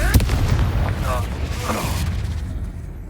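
A Confringo fire spell explodes in the game Hogwarts Legacy: a loud, close boom bursts at the start, then a rumbling, crackling tail fades out over about three seconds.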